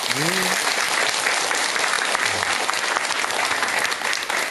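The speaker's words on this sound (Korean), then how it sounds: "박수 한번 치세요." Applause from an audience at a dharma talk, a loud, dense and continuous clapping that holds steady throughout, with a brief voice heard beneath it.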